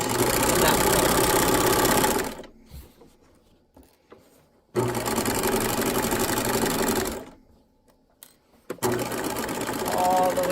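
A sewing machine stitches a drawstring bag casing in two loud, fast, buzzing runs separated by quiet pauses, with a short burst near the end.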